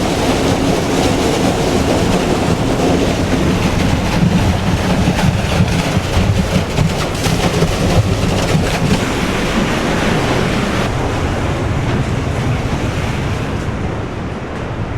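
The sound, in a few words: wash plant agitation system machinery running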